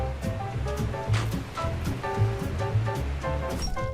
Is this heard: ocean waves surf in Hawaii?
yes